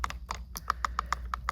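A quick series of crisp mechanical clicks from a Jeep Wrangler steering column stalk, about ten evenly spaced taps in a steady rhythm, close and fairly loud against a quiet background.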